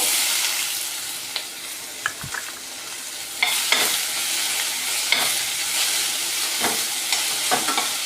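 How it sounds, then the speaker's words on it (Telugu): Sliced onions fry with dried red chillies in a pan, a continuous sizzle broken by several scraping stirs of a spatula at irregular intervals, close and moderately loud with no talking. "ఇవి బ్రౌన్ కలర్ వచ్చినంత వరకు వేయించుకోవాలి"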